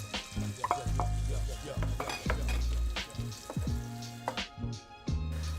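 Onions sizzle and crackle in a pan of butter and oil while a utensil scrapes and knocks against it in irregular strokes, close up.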